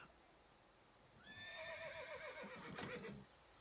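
A horse in the Stronghold Warlords strategy game lets out a single faint, wavering whinny that lasts about two seconds, joined by a few hoof clops near its end.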